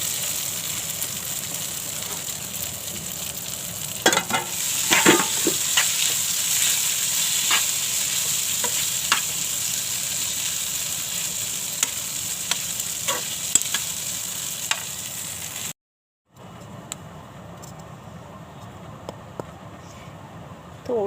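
Potatoes stirred in a pan for crisp mirchi vada, a steady broadband sizzle and frying hiss under scraping utensil strokes, with a brief pause near the end before the sizzle resumes.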